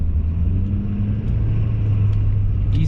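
Four-wheel-drive truck on BFGoodrich KO3 tires pulling away from a stop sign in snow, its engine giving a loud, close, deep rumble that swells slightly as it moves off.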